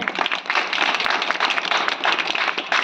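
Steady applause and clapping from an audience at a school education program event, a dense continuous patter of many hands lasting throughout at fairly even loudness, with no voices over it.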